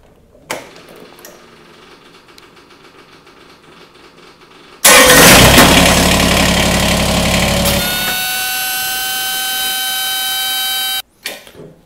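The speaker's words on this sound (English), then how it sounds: "we'll fire it up and let it run for a little bit" A Kubota BX23S compact tractor engine cranks and catches with a loud burst, then settles into a steady, close idle that runs for several seconds before cutting off abruptly.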